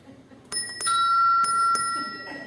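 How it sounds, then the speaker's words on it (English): A timekeeper's hand bell at a candidate forum rings out in a few sharp, clear metallic strikes whose tones linger and overlap, fairly close, with faint room murmur beneath. "Hit your bell again."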